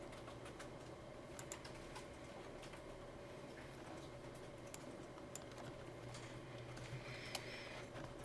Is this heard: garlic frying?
no